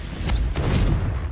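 Fiery blast of the Confringo spell in Hogwarts Legacy, a loud booming burst with a couple of sharp thumps and a rumbling tail over roughly a second.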